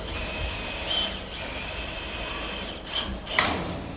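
A Susta tap, threading and cable-pushing machine runs steadily with a high whirring, mechanical tone, swelling briefly a few times.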